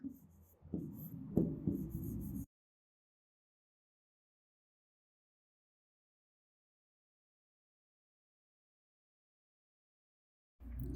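A pen scratches and rubs on paper during handwritten maths working, a short close burst of strokes lasting about two seconds before near silence.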